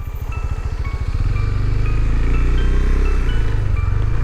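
A KTM 390 Adventure motorcycle engine runs close and loud, a pulsing idle-like thrum that rises into a steady, sustained drone as the bike pulls away.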